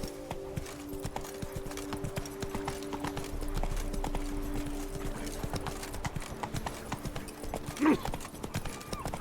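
Hoofbeats of a horse galloping in The Witcher 3: Wild Hunt, a steady rapid clip-clop under constant game music and ambience, with a louder thump near the end.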